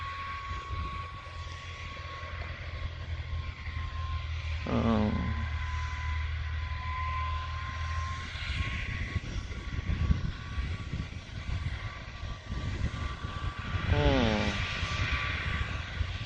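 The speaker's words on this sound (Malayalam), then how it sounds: "അവിടുന്ന് ആ മരുന്നടിച്ച വണ്ടി വരുന്നുണ്ട്." A tractor pesticide sprayer engine drones steadily nearby in a vineyard with a low rumble, while people talk intermittently over it.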